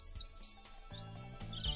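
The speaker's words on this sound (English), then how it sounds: "2, 3 baby birds in the nest." Baby birds in a nest give faint, high, thin chirps in short repeated bursts, with soft background music beneath and no talking.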